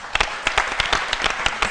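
A small group claps in a TV studio, a brief burst of uneven, close handclaps over under two seconds.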